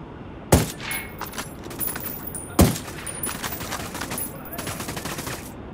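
Sniper rifle fire in Ghost Recon Wildlands multiplayer: two sharp, loud cracks about two seconds apart, each followed by a short ringing tail over a steady game background with faint interface tones.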